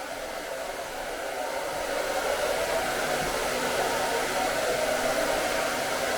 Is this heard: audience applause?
no